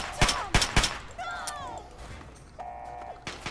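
Gunfire in Fallout 3: a few loud, sharp shots in quick succession near the start, followed by whining, sliding game tones and a quieter background hum, with faint voices.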